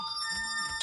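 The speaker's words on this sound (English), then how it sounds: "That's just my phone going off" A mobile phone ringtone goes off, a faint, steady electronic ring with brief brighter pulses, heard alone in under a second.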